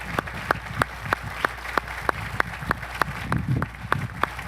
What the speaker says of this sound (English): I would like us to give one more round of applause, please, to all of our veterans